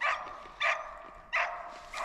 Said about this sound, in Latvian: Suns jau nepacietībā rej un gaida.